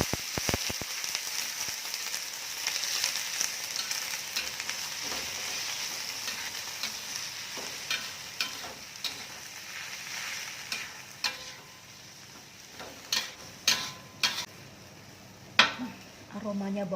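Leeks and chili stir-fry in a pan with a steady bright sizzle, joined by sharp scrapes and clicks of a utensil against the pan that grow more frequent toward the end.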